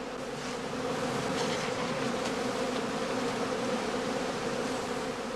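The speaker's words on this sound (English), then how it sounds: "Bees which have flown away will collect in the winter skeps" Honey bees buzz steadily around straw winter skeps, a dense continuous hum of many insects close by with no talking.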